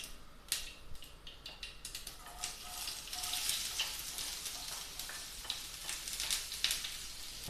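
Chopped shallots sizzle and crackle in hot coconut oil with popped mustard seeds, a steady close frying hiss with sharp spits and stirring scrapes, no talking.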